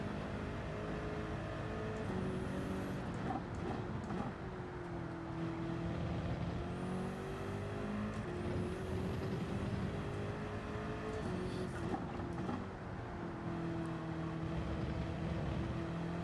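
A race car engine in Gran Turismo 7 held at full throttle in third gear, droning loud and steady with its pitch rising and shifting over several seconds, and no talk over it.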